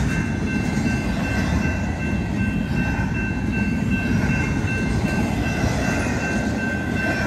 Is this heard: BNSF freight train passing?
yes